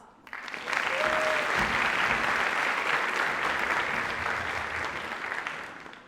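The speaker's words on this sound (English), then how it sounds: "How about another round of applause?" Applause rises from an audience at a campus award ceremony, the Sammys, starting after a brief quiet moment and holding as a full, steady wash of clapping that slowly tapers toward the end.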